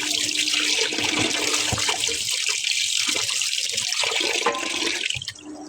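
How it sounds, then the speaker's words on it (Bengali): Chicken pieces are rinsed under a running tap, with a loud, steady rush of water and splashing close by that eases near the end, and no voices. "ধুয়ে নিচ্ছি মুরগির মাংসগুলি"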